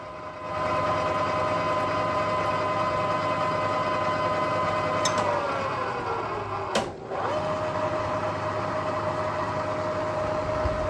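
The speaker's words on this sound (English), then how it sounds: "I am going to power tap these for a 1/4 20 bolt." A machine power-tapping holes for 1/4-20 bolts in a home shop, a steady close motor whine that shifts pitch partway through, dips briefly as the tap reverses, then resumes at a constant drone.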